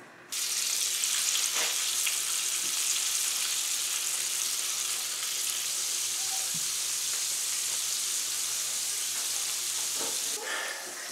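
Steady, close sizzling of flour-coated softshell turtle meat frying in hot oil, a continuous crackling hiss with a few small pops, running unbroken for about ten seconds.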